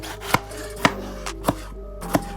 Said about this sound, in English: Now it's time to cut these peppers.